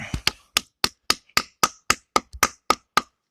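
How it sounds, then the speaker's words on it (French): A hammer taps a spile into a birch tree for sap, delivering about eleven sharp, evenly spaced strikes at close range that ring crisply with quick decays. "On prend le marteau. Puis, on cogne."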